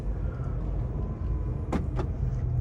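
Steady low engine hum of a 2019 C300 car being driven, with a couple of brief higher clicks or rattles near the end.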